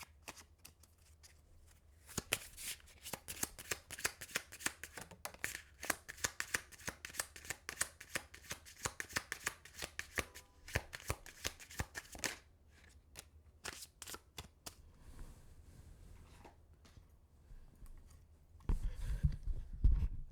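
Tarot cards being shuffled by hand in a quiet room, a long run of dense, rapid riffling clicks near the mic, easing into sparser handling before a low thump at the end.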